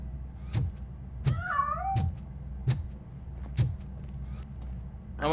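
A cat in the video game RoboCop Rogue City on PlayStation 5 meows with a rising and falling cry, heard alongside regular heavy footstep thuds and low background hum.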